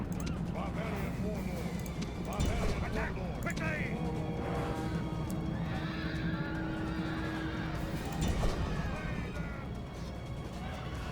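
Cavalry horses charge in a Total War battle, with repeated neighs and whinnies, thudding impacts and clashing melee noise that continue throughout, while someone talks over the battle.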